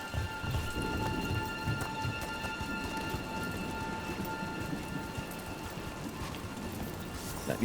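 Steady rain pours in Dragon Age: The Veilguard, a constant dense patter on surfaces with a low rumble of thunder, continuing unbroken through the scene.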